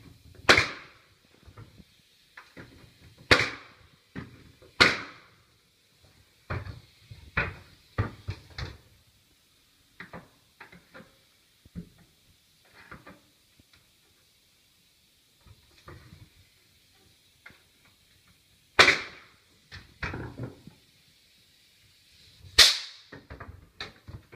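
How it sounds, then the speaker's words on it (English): An 18 gauge nail gun driving nails while installing hardwood flooring, a few sharp loud pops spaced apart between quieter tapping and handling noises, no speech. "That's an 18 gauge nail gun, and that's what the little nail holes are"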